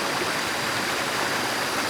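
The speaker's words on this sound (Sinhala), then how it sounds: "මේක තමයි වේවැල් දොළ" Vevel stream on the steep Dehenakanda Mukkuwatta trail up Adam's Peak, a steady, close rush of flowing water heard alone without a break.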